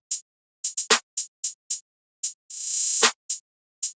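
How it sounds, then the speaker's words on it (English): Programmed clap pattern in a late-night trap beat, bright sharp claps in a syncopated rhythm with a longer swelling noise burst near the end, close and dry with no talk. "And then for the next thing, I used the Luca late night clap,"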